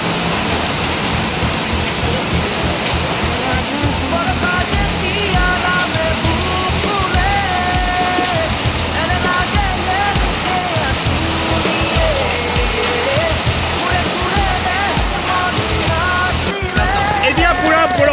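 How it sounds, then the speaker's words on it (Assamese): Heavy rain falls steadily in an Assamese town, a loud continuous broadband wash for the whole stretch, with faint voices and other sounds mixed low underneath. "এতিয়া পূৰা বৰষুণ দি আছে"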